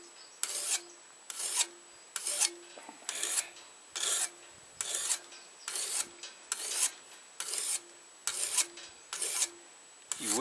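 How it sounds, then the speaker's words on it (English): A good file worked across the edge of a hardened steel French butcher knife blade, about a dozen regular rasping strokes in a steady rhythm, close and clear with short pauses between. "if you've got a good file, you can file it"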